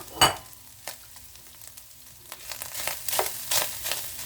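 Coleslaw mix hits a hot pan with sausage and fries, a sharp initial crackle followed by building sizzle and rustling stirring noises up close.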